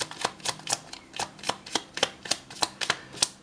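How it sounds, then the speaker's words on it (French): Tarot cards being shuffled for a reading, a steady series of about a dozen crisp riffling slaps at an even rhythm, close and fairly quiet with no talking. "Maintenant, je vais vous faire un tirage de cartes"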